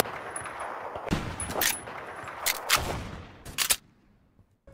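Railgun fired in the Phantom Forces shooter game, a handful of sharp, loud discharges spaced irregularly over a steady background of game noise, with the last pair of shots coming close together before the sound drops away.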